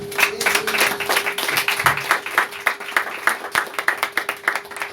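A church congregation claps together in steady, dense applause that goes on throughout, close and loud, with no talking over it.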